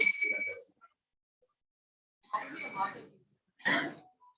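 Mobile phone left on during a spiritual talk, a bright electronic ringtone chiming once at the start, followed by short bursts of nearby talk and a cough-like sound.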